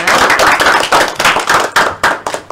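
A classroom of students breaks into loud, dense applause, many hands clapping together in close, bright bursts that swell and ebb over a couple of seconds.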